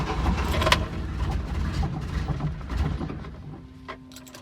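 The engine of a 1976 Toyota Chinook camper catches roughly, with an uneven, sputtering rumble that gradually settles toward a steadier idle, heard close up.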